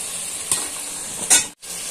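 Bottle gourd sizzles as it is sautéed in oil spiced with coriander powder. A steady, close frying hiss swells into two louder bursts as it is stirred, then drops out briefly, with no voices.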